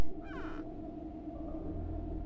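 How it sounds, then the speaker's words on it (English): Crow-like cawing call from the Blood: Fresh Supply video game, a short harsh call at the start over a steady low ambient game drone. "Bird noises."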